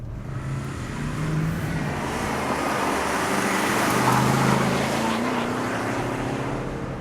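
A Porsche Cayenne S Diesel drives along a twisty road, heard as a steady, loud interior drone of engine and tyre noise that swells slightly mid-clip.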